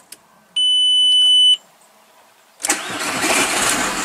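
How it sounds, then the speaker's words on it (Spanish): A 2002 Volkswagen Passat engine cranks and catches, settling into a loud, steady idle that runs to the end, after a quiet stretch and a brief electronic beep. "Arranca perfectamente"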